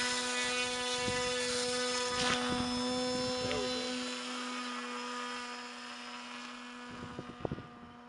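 A CAP E384 model aircraft motor runs at full throttle with a steady, high, droning whine that holds for several seconds before easing off, with wind noise and a few handling knocks close to the microphone.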